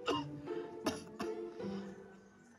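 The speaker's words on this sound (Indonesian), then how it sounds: "saya ini batuk biasa, bukan COVID" A few short, harsh coughs burst out close by, three or four in quick succession, with brief pauses between them.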